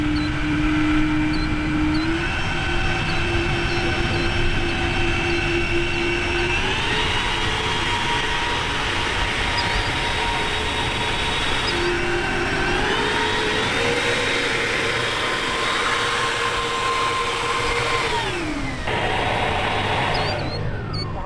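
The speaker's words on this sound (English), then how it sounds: "taxiing out to the runway for its maiden flight" Giant RC scale Challenger 7500 private jet model taxiing toward the runway for its maiden flight, a loud, steady turbine whine that shifts pitch in steps as the throttle changes, with a rushing hiss underneath.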